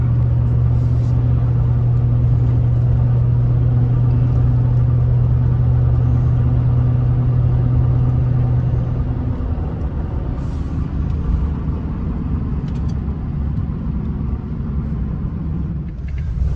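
A seven-year-old Ford Super Duty pickup truck driving down the road: a loud, steady engine drone and road rumble from inside the cab, with a low hum that fades after the first half as the tone shifts.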